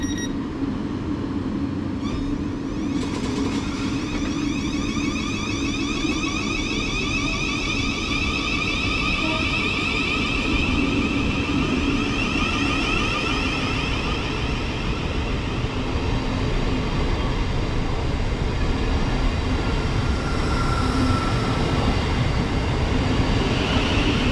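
A Class 700 electric train, unit 700122, pulls away from a platform at Littlehaven station bound for Horsham, a steady broad rumble with a faint rising motor whine running throughout, fairly close and with no talk.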